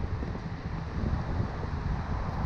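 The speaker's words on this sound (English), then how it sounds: "Sorry for the wind out here." Continuous wind rumbles and buffets the microphone outdoors beside a straight-piped Corvette, a low, dense rushing noise that stays fairly steady throughout.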